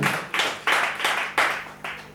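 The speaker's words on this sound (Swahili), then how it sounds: "Makofi jamani" A church congregation claps their hands in six loud, evenly spaced bursts, each sharp onset fading quickly before the next, with no talking over it.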